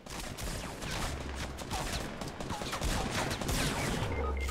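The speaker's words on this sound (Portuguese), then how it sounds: "eu errei todos os tiros de shot" Rapid shotgun blasts and gunfire in a Fortnite squad fight, loud and dense, overlapping in a continuous burst of shots across the whole stretch.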